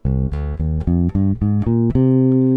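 A bass guitar plays a C natural minor scale as eight distinct, evenly spaced plucked notes climbing upward, loud and close, with the last note left ringing.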